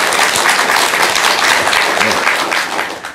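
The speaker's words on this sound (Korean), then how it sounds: "박수 한번 드리세요, 이럴 때." Audience applause at a Buddhist lecture gathering, a dense steady wash of many hands clapping close and loud for about three seconds, tapering slightly at the end, with no talking.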